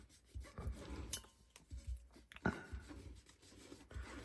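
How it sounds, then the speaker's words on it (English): A cotton swab rubbed back and forth across a cast iron surface, giving faint, close, irregular scratchy strokes that keep going in short bursts, with no talking. "And I'm not rubbing in one spot. I'm rubbing everywhere."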